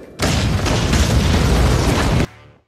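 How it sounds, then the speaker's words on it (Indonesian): A loud explosion roars for about two seconds as a dense, sustained broadband blast, then cuts off abruptly into a short fading low tail. "Ledakan itu terdengar oleh Katagai."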